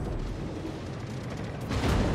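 Naval artillery shells striking ships in a warship combat video game, a dense rumbling barrage of booms that swells louder near the end, with no talk over it.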